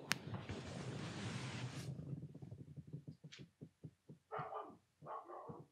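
A dog barks through a stretch of background noise, with a run of short, rhythmic barks, close and fairly loud, followed by a few louder barks at the end.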